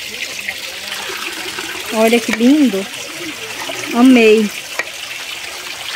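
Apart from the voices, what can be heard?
water trickling in a garden cascade fountain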